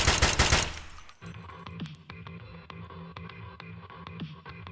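An SKS rifle loaded with PS rounds fires in a video game. A dense opening burst gives way to a quicker run of sharp, evenly spaced semi-automatic shots over a faint background, with no voices.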